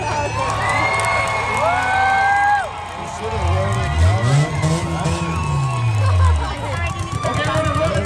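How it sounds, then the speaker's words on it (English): Crowd cheering and shouting at a demolition derby, a loud sustained roar of voices with high whoops over the din, and engine revving beneath. "So keep cheering if you got your favorites."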